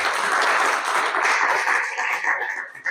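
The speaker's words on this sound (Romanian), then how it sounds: "Aplauze pentru concurenți." A school quiz-show audience gives the contestants a loud, dense round of applause, many hands clapping steadily for the whole stretch.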